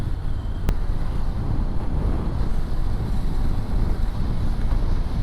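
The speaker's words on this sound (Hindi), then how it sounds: "अब हवाएं बढ़ गई हैं, अच्छी खासी हवा चल रही है" Strong wind roars steadily over the microphone on a motorcycle ride from Srinagar to Sonmarg, a loud unbroken rush with no voices.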